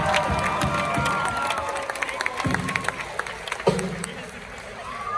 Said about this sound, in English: So we'd like to give a round of applause for them for holding this concert tonight.